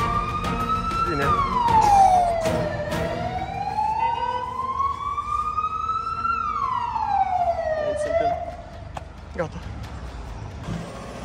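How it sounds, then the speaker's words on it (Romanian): An ambulance siren wails nearby in long rising and falling sweeps, loud and close over traffic rumble, then fades out near the end. "vine acum ambulanța"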